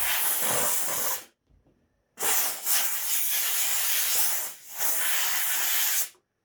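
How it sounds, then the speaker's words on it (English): A steamer hisses at a felt hat being softened for bending: two long, steady bursts of loud, close steam hiss separated by a short pause, with a brief dip in the second, and no voices. "I'm going to actually steam this a bit to bend it"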